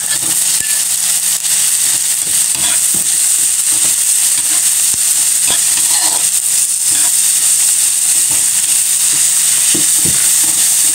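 Tomatoes sizzle as they are sautéed with onions and other vegetables in a pan, a loud, steady frying hiss broken by scattered crackles and spatula scrapes.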